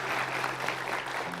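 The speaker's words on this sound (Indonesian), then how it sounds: "Belum dibaca aja sudah tepuk tangan, apalagi dibaca nanti ya." Applause from a studio audience on a television talk show fills the clip steadily, a dense, even wash of clapping with no voices over it.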